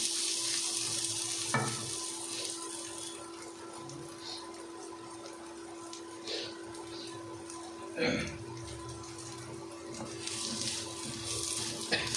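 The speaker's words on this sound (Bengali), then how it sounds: "এটা ভালো নেড়ে একটু ভেজে নিতে হবে" Bay leaf, clove, cardamom and cinnamon fry in hot oil at the start of a beef curry. A soft, steady sizzle hisses throughout, with a couple of louder crackles and faint clinks from stirring.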